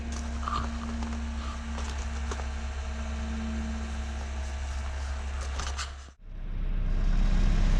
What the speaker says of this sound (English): There we go, engine's nice and quiet,